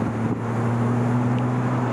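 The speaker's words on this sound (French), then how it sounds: "t'as juste à entendre le petit flat 6 qui part." Engine note of a Porsche Boxster 987 flat-six pulling away from a steady cruise, a low constant drone with strong harmonic hum, held evenly throughout with some road and wind noise underneath.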